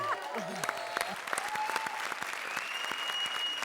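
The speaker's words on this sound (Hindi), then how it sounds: "धमाल परफॉर्मेंस, जोरदार तालियां सुदेश और कृष्णा के लिए" Studio audience claps and cheers after a live comedy stage act, dense applause with sharp individual claps cutting through, and a few faint voices and musical tones sitting underneath.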